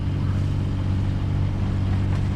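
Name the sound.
sailboat motoring under engine power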